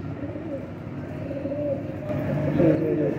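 A breeder pair of pigeons coos softly and steadily at close range, with low murmuring calls that swell slightly toward the end over a constant background hum.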